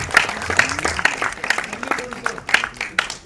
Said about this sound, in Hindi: सर के लिए एक बार जोरदार तालियां हो जाए।